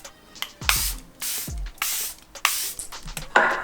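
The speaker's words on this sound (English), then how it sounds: "she goes in with the second round of setting spray" Short hissing sprays from a makeup setting spray pump bottle, about five bursts spaced under a second apart, each with a light click at the start, close and fairly loud.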